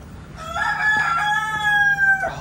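A rooster crows loudly nearby, one long drawn-out call, with faint hen clucking in the background.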